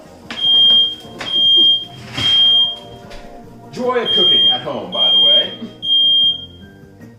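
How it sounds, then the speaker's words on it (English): A smoke alarm goes off in a home kitchen while yakitori skewers and meatballs are cooked, giving loud, high, evenly spaced beeps in a repeating pattern while a person talks over it. "Oh, that's the fire alarm, apparently."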